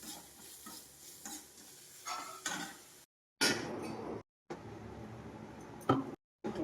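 Ivy gourd with salt and tamarind is stirred and sautéed in a pan, with a spatula scraping over a light sizzle. The sound is close and comes in short bursts broken by abrupt silent gaps.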